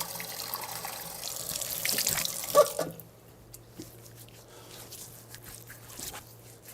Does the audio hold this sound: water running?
yes